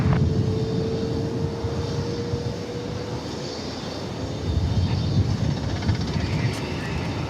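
An airplane approaches at DFW Airport, a broad jet roar rising and holding steady throughout, close and loud, with no clear talk over it.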